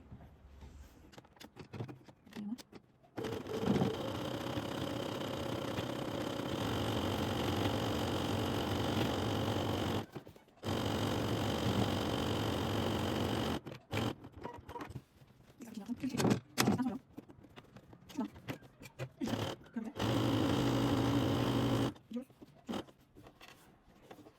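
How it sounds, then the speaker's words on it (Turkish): A sewing machine runs a zigzag stitch on a baby dress, sounding in several bursts of steady whirring separated by pauses, with handling noises in the gaps. "Bu sefer zikzak dikiş dikeceğim."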